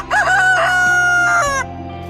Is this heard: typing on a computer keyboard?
no